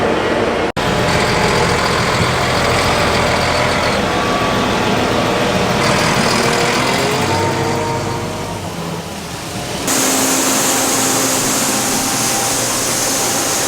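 Truck engine idling on a farm during grain harvest, beside a combine and grain cart: a steady, loud diesel rumble running continuously, dipping briefly before a harsher, brighter engine noise takes over for the final stretch.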